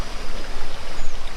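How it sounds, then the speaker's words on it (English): Water rushes down at Thottikallu Falls near Bangalore, a loud, broad, steady roar of flowing water up close, with no voices. "The water, how it flows down."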